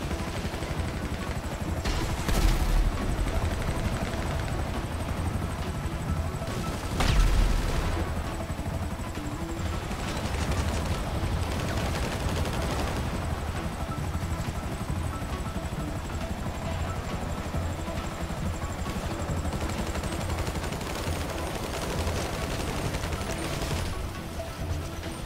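Video game gunfire in GTA V Online aimed at a helicopter, repeated bursts of automatic fire with a couple of louder blasts over a continuous rotor drone throughout.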